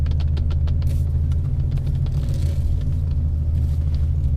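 A Porsche 993 drives along the road, its engine producing a loud, steady low rumble from inside the car with constant road noise and no break.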